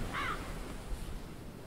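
A single raspy crow caw near the start in the video game Vendetta: The Curse of Raven's Cry, fairly clear over a soft ambient bed that continues quietly afterward.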